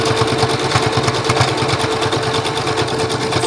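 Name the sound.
sewing machine stitching a Christmas mug rug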